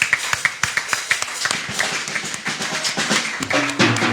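A church congregation applauds to acclaim the Lord during a worship service. The clapping begins as fairly regular rhythmic beats and grows into denser, overlapping applause with some background voices, loud and close.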